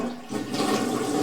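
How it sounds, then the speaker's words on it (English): An old apartment toilet flushes loudly and close, a steady rushing of water after a piece of plastic was cleared from it. "She flushes now."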